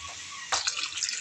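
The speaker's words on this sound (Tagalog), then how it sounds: "Tubig po, lagyan natin isang baso." Water splashes from a glass into a cooking pot of tinola with ginger and chayote, a brief sudden pour after a quiet moment, close and fairly soft.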